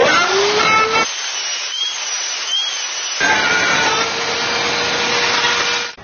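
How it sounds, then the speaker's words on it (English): A continuous harsh grinding and rasping, loud and close, as a 6-inch hole is drilled in a tube exhaust port, with a short quieter stretch midway. "now it's time to drill a 6-inch hole in our newly attached exhaust port"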